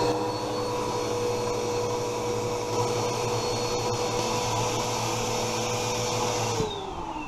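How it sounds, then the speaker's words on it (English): A vacuum cleaner fitted with a brush attachment drones steadily while cleaning a mattress, a constant whine with a low hum beneath it; close and unbroken, it winds down in pitch near the end. "take our vacuum cleaner with our brush attachment, and we're going to vacuum all this off"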